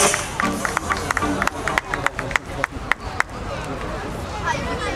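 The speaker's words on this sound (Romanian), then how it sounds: "Foarte multe aplauze pentru ultima grupă de la Giuliana, Școala de Balet." An audience applauds a ballet school group, sharp claps ringing out over loud crowd chatter and babble, busier at first and then thinning under the voices.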